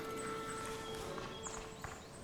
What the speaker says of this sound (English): Man, my footstep sounds are uncanny.